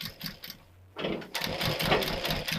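A sewing machine stitches a Katori cut blouse, running in quick rhythmic bursts, pausing briefly, then whirring steadily and close without talk.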